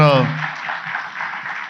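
Applause welcomes Bhupender Yadav at a Delhi air-pollution discussion, a steady wash of clapping from an audience that rises just after a voice trails off and carries on evenly to the end.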